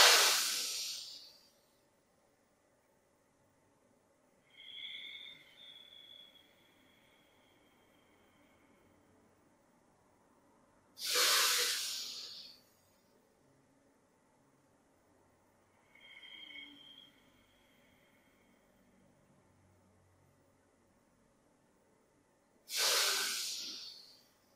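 Slow, deep breaths during a yoga exercise for seniors, close and clear, with strong airy exhales alternating with softer whistling inhales in a steady rhythm separated by quiet pauses.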